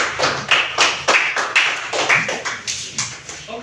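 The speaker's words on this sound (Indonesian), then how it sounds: "Berikan aplaus untuk kelompok 1 dulu." Applause for a student group in a classroom, several hands clapping in a loose, uneven rhythm, close and fairly loud, with no talk over it.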